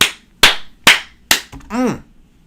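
Four sharp, loud hand claps land in a slow, even rhythm, with a short tonal voice sound sweeping up and down just after them.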